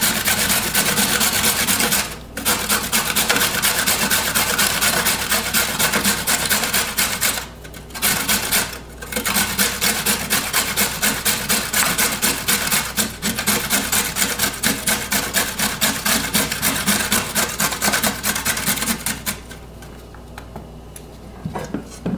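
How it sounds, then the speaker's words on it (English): A carrot rubbed against a hand grater in a home kitchen for a stir-fry: steady, close rasping strokes in a continuous rhythm with a few brief pauses, loud and alone, fading near the end. "you want to go ahead and grate your carrot"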